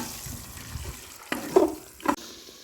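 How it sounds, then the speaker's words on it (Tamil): Tomatoes sautéing in a pan for vegetable biryani, a soft steady sizzle with a few louder stirring scrapes and clatters near the end, no talking. "தக்காளி கரையிற அளவுக்கு நல்லா ஒரு 10 நிமிஷம் வதக்கிக்கலாம்."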